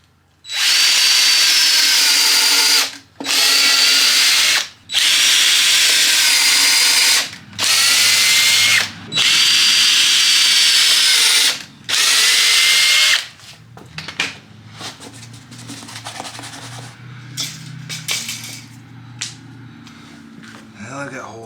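A power drill whirs loudly in six or seven bursts with short pauses between, drilling bolt holes in hitch-mounted rock guards, followed by quieter clattering and handling noises.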